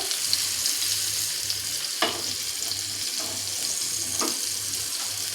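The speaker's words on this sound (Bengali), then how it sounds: "দেখেই বুঝতে পারছেন সুন্দর ভাজা হয়ে গেছে।" Snacks frying in a pan of oil, a soft continuous sizzle with occasional sharper clinks of a spatula, heard close and fairly quiet.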